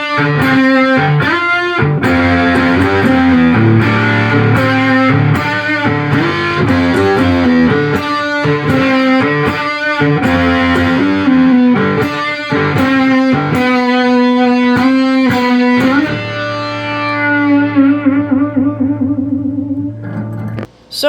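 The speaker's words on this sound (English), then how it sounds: "the Proco RAT" Electric guitar through a Pro Co RAT2 distortion pedal, distortion near 10:30, filter at 11, volume at 12, playing loud, gritty driven riffs and chords continuously before a final chord rings out and decays.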